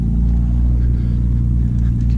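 A car passes on a quiet street in Lincoln, New Mexico, with a steady, loud low rumble of engine and road noise throughout.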